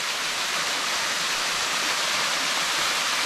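A waterfall near a tent campsite in Kannur pours with a loud, dense, unbroken rushing roar that stays even from start to finish.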